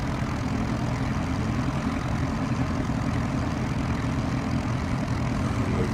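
A propeller aircraft's engine drones steadily while taxiing toward the runway in X-Plane 11 on a Norway route from Svolvaer to Bardufoss, a constant, close, low rumble with no talk over it.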